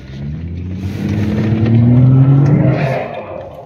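A lifted Jeep climbs a steep mountain trail, its engine revving close and loud with a rising, strained tone that builds and peaks before easing slightly, with no talk over it.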